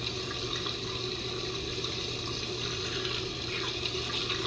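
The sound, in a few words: shower water running in a video game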